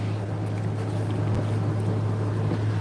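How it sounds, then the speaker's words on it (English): Air conditioning running indoors, a steady low hum with a constant broadband whoosh, close and continuous without any speech. "sorry about that noise. That's the air conditioning."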